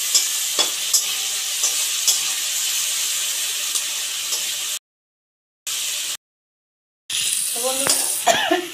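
Chilli pieces frying in a pan for chilli chicken give a steady, bright sizzle with occasional stirring clatter, broken by two short silent gaps before the crackling resumes.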